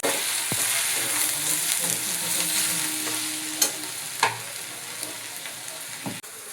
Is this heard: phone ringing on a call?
no